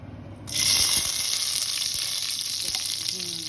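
Cinnamon, cardamom, salt and onion hit hot oil and burst into a loud, steady sizzle that holds for several seconds with no one talking.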